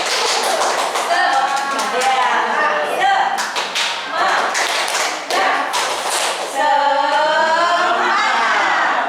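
Group rhythmic hand clapping in the Indonesian 'tepuk semangat' clap chant, with sharp claps repeating in patterned bursts while voices chant and talk over them.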